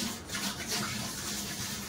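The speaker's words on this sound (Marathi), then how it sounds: "पाणी त्याच्यामध्ये भरतो." Water pours into a drinking water jar in a steady, gurgling rush with a hollow resonant tone, fairly quiet and continuous throughout.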